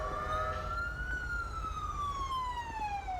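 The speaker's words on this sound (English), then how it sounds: "I forgot to turn my damn siren off again" Loud, close police siren from GTA 5, rising briefly and then gliding slowly downward in a single continuous wail over a low engine hum.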